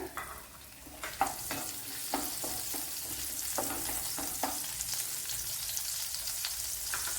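Garlic cloves and a small piece of ginger fry in coconut oil, giving a steady close sizzle with a few sharper crackles and occasional stirring scrapes early on.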